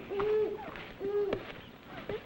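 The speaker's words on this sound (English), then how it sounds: "That's an owl." An owl hooting in a night setting, two long wavering hoots about a second apart with a faint third at the end, steady and moderately near.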